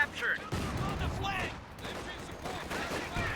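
A machine gun fires in a video game battle, with bursts of rapid shots and distant explosions over a noisy combat backdrop.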